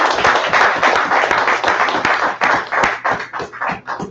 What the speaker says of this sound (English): Give brother a round of applause.